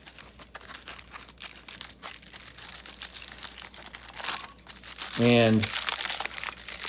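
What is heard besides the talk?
unwrapping packaged vegetarian pepperoni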